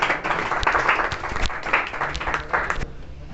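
A crowd applauds at a college farewell party, with dense overlapping hand claps that swell and fade for a few seconds before tapering off.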